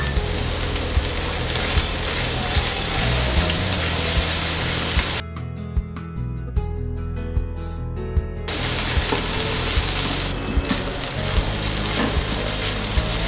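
Soya keema mixture with chopped coriander cooking over a slow flame, giving a steady, close hissing sizzle that runs almost throughout and briefly drops away in the middle before returning.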